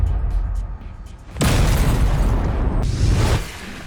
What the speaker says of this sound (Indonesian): Ledakan dahsyat pun terjadi